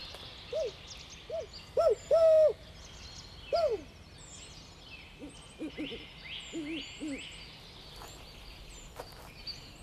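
An owl hoots in a slow series of clear, mid-pitched calls, followed by a few softer, quicker hoots against a quiet outdoor background.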